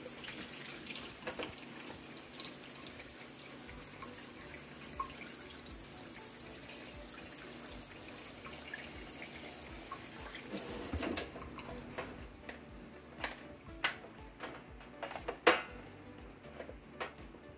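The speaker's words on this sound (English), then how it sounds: "We're going to add in that mild water again." Water runs steadily from a hose into a bottle for a long stretch, a continuous rushing hiss, then gives way to a few clunks and splashes near the end.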